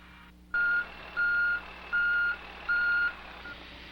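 Reversing alarm on a road grader working a gravel road, sounding four evenly spaced, clear beeps over a steady low engine hum, with no voices.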